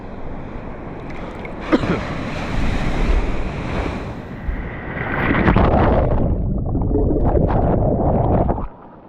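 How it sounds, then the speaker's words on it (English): Ocean surf crashes and washes up onto the beach in a loud, continuous roar with heavy wind buffeting the microphone, swelling into a second surge midway and then cutting off. "So the waves are moving this way. The water is being pushed towards the beach, towards land."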